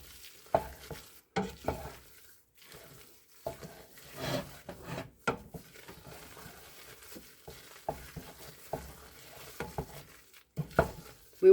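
Velveeta cheese being stirred as it melts, a spoon scraping and squelching through the thick mixture in irregular strokes with brief pauses, fairly close, with no voices.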